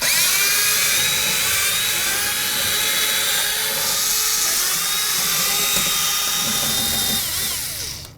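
Power tool whine runs loud and continuous for several seconds while removing door plate mounting bolts on a 1988-2002 GMC Sierra 1500, the pitch sliding slightly before it winds down at the end.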